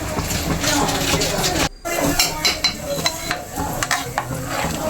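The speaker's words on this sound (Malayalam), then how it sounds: "ഇനി നമുക്ക് ഇതൊന്ന് ഇളക്കി കൊടുക്കാം" Cracked wheat payasam is stirred in a pot, with a rough continuous scraping and faint bubbling, close up and uneven, broken by one brief pause.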